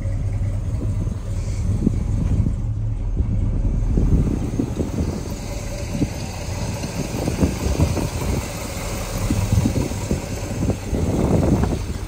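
A 1970 Chevrolet Chevelle with a 454 big block V8 and dual exhaust idles outdoors with a steady low rumble, uneven pulses and a light wind over it, with no talking.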